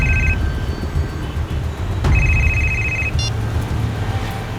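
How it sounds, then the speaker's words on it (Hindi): A telephone rings with two bursts of electronic warbling tones over loud, rumbling car-interior road noise, followed by a short beep. "इसी वक्त एक फोन आना था,"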